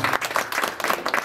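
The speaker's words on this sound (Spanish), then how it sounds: "fuerte las palmas" A crowd at a 50th birthday party event claps steadily in sustained applause, loud and close, with no talk over it.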